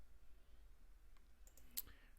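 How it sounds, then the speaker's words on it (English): A single sharp computer mouse click, close and quiet, near the end of a stretch of faint room hum, with no talking. "Click on Ultimate Guitar tabs"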